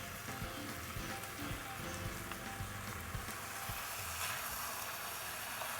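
Minced beef sizzling and frying in a pan with softened onions, a steady broadband crackle throughout with a low voice talking underneath.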